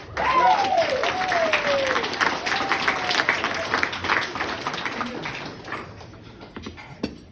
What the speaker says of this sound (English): And I think it's deserving to give them all another round of applause